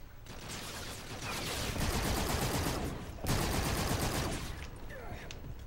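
Light machine gun firing in a video game, a long rapid burst of sustained automatic fire up close, briefly pausing around the middle before continuing loud.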